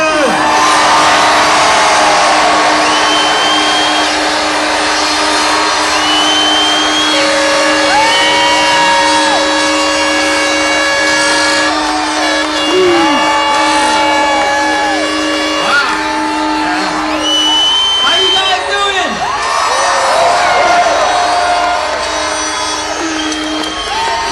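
A large crowd at the Silverstone 2009 after party cheers, whoops and shouts to welcome Formula One world champion Lewis Hamilton, a loud sustained roar with whistles and individual yells rising through it.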